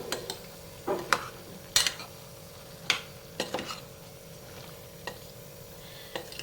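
Ginger garlic paste being stirred into a cowpea and tomato curry in a pot, with a series of sharp spoon scrapes and clinks against the metal at irregular intervals over a low sizzle, no voices.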